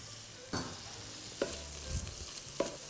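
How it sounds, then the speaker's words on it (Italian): Cooked ham fries quietly in a pan for fettuccine alla papalina: a faint steady sizzle broken by a few sharp scraping stirs of a utensil against the pan. "Questo è il momento di andarci ad aggiungere il prosciutto cotto."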